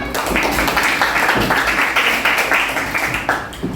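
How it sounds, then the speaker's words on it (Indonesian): A group claps for classmates in a school session, dense and continuous applause filling the room at fairly loud level, with scattered taps and faint voices mixed in. "Silakan kelompok 2, berikan tepuk tangan"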